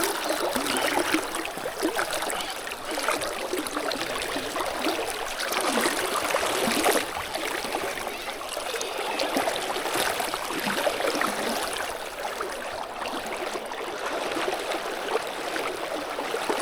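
A fast river current flows alongside a fly-fishing spot, making a steady, close, broadband rush of water with slight surges and no voices.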